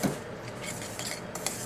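A spoon mixes tomato, turmeric and vegetable herb stock into dry couscous in a bowl, giving soft continuous scraping and stirring with a faint clink near the end.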